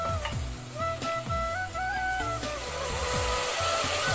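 Onion and spice masala frying in oil for urad dal with mutton, giving a steady close sizzle with scraping and stirring clatters running through it.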